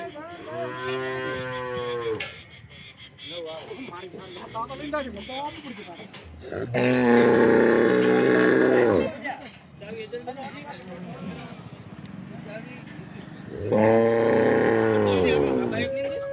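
Pregnant cows in Porbandar mooing loudly while being loaded for sale, three long bellowing calls spaced across the clip with quieter shuffling and faint voices in between.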